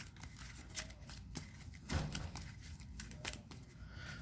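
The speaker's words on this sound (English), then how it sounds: "Shuffle in my deck." A deck of Yu-Gi-Oh Speed Duel trading cards is shuffled by hand, giving soft, quick papery riffles and slaps in an irregular rhythm, close but quiet, with a faint low background hum.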